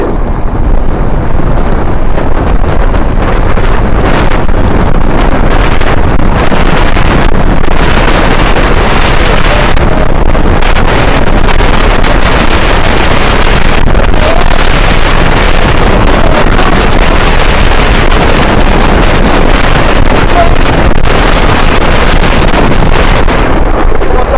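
A dual-motor electric scooter in mode 3 runs at top speed, nearly 80 km/h, as a constant, loud rush of wind buffeting the microphone that masks most other sound.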